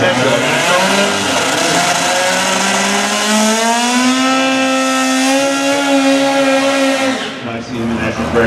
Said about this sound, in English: Holdridge has a 1962 Impala with a turbocharged 480 cubic inch big one.